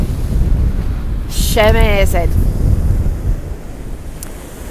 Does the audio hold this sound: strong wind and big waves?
yes